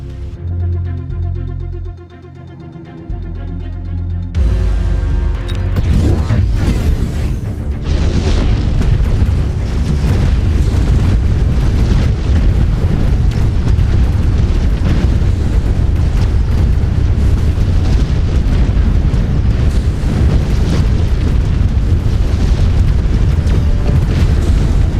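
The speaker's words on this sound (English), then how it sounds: "Missile barrage." A missile barrage exploding in a video game: a heavy, loud roar of booms erupts after a few quieter seconds and rumbles on continuously to the end.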